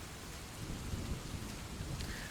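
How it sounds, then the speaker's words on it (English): Thunder rumbles low and rolling through steady heavy rain, a stormy sound effect with no voices over it. "Suddenly, thunder booms overhead, and forks of lightning streak down to explode among the surrounding"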